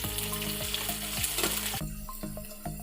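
Garlic, ginger and green chilli sauté in a pan for a Kerala-style fish curry, with a steady close sizzle and occasional stirring scrapes, background music running underneath, and the frying quietening toward the end.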